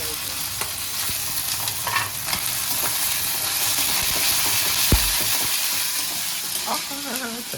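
Ginger-garlic paste and tomato frying in a pan, a loud continuous sizzle with stirring scrapes and occasional knocks, a brief voice murmuring in the background near the end.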